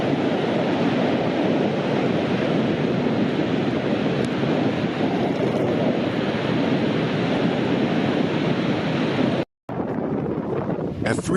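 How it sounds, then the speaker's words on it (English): Surf waves wash continuously along a shoreline, a dense, steady roar mixed with wind buffeting the microphone, broken by one brief dropout near the end. "Normal wave motion occurring in the surf 3 hours before the predicted event."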